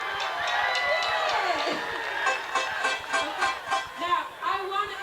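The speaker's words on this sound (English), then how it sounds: "Give yourself a round of applause for me." Festival crowd at an outdoor reggae show in a Winnipeg park cheering and whooping, a dense wash of voices with rising shouts and whistles, steady and fairly loud throughout.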